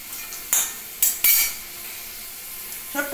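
Small pakora-shaped fritters drop one by one into hot oil over a low flame, each setting off a short sharp sizzle that fades to a quiet hiss between them.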